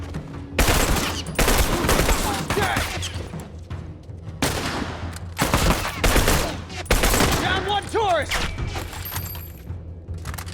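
Rapid video-game burst rifle fire cracks in repeated short volleys, loud and close, with clattering impacts and a rising whine between bursts; no speech.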